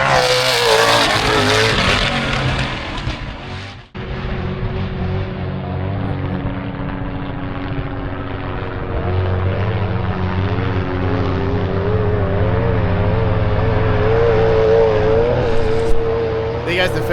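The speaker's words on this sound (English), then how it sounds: "Here comes the first car." A race car at the Finke Desert Race roars past on a dirt track, a loud sustained engine note that builds and holds steady as it speeds by close to the roadside.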